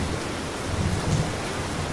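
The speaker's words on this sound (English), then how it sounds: "Meanwhile, the storm has increased." Steady rain with a low thunderstorm rumble swelling briefly near the middle, a continuous broadband wash with no voices.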